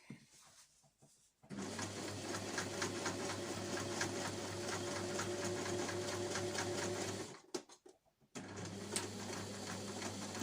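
Sewing machine stitching around the edge of a reusable snack bag, a steady close whirring hum for several seconds that halts briefly, then starts up again, with no speech.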